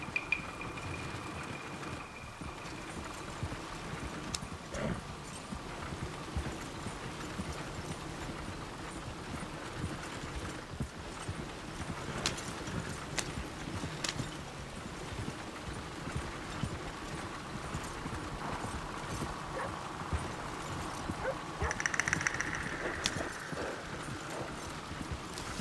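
Hooves of a horse pulling a carriage clip-clop steadily along a road, a faint continuous rhythmic trot under low background rumble, with no talking in this stretch.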